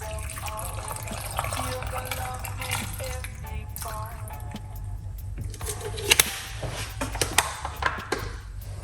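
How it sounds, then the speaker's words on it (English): Water splashes and trickles into a blender jar holding ginger and lemon for several seconds, with a few sharp clinks near the end; fairly close and moderately quiet. "add a little bit of water."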